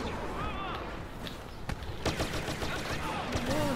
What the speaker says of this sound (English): Is somebody shooting?